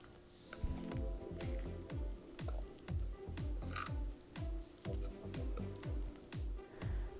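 Zucchini bread batter is spread evenly in a baking pan with a utensil, giving a rhythmic series of wet, sticky squishes and smacks, repeated strokes close up, with brief pauses between passes.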